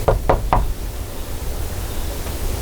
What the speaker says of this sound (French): il a vraiment toqué